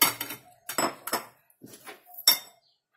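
A bowl handled on a kitchen counter while making homemade chocolate, with several close, bright clinks and knocks of dishware in short irregular bursts separated by quiet gaps.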